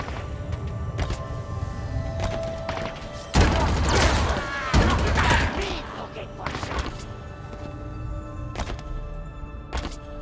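Gunfire from a weapon in Halo Infinite, aimed at large enemies: a burst of heavy, thumping shots around the middle of the stretch, loud against a busy game soundscape, with speech present.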